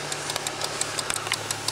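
A Volvo V70 with a 2.5 petrol engine idles steadily up close, a low continuous hum with light, regular ticking and rattling from a check of engine and gearbox mount play.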